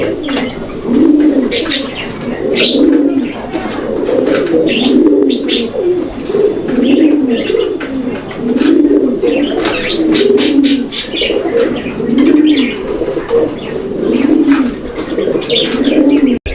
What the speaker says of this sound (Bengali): ওইটা হচ্ছে মাদি কবুতর